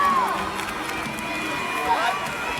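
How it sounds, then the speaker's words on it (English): Crowd noise from an Atlanta women's football game, a steady broad roar of fans cheering and shouting throughout, with whistle-like tones rising and falling over it. "Which only gives the Atlanta crowd a chance to get louder."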